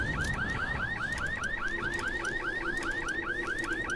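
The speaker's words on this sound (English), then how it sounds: "Or is that a car alarm?" A car alarm in the video game Dying Light whoops in a steady, rapid rising cycle, loud and continuous over a low rumble of game ambience.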